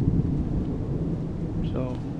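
Rain falls on a tarp stretched over a jon boat, making a steady, dense hiss and patter over a low rumbling wash that stays fairly loud throughout.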